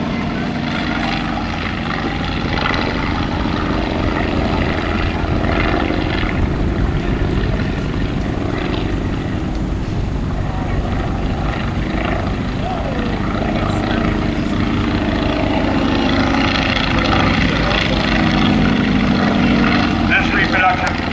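Continuous loud drone of a Fokker Dr. I triplane's propeller engine in flight, built in Florida in the late 1980s and flown at Old Rhinebeck Aerodrome, steady and unbroken throughout with a slight swell near the end.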